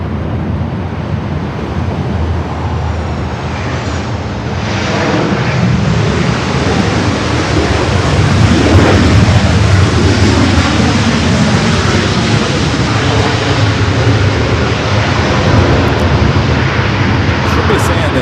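A heavy EVA Air jet rolls down runway 24 left at LAX on takeoff, a loud sustained engine roar with a broad rushing wash that swells midway and holds steady, with people talking over it at times.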